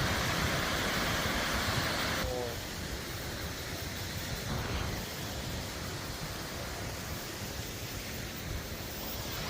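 Powerful Marokopa waterfall roaring as a steady broadband wash of falling water, loud and continuous, with the tone shifting slightly partway through and no voices over it.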